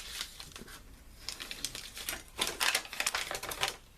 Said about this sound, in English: And again, fold it the short way,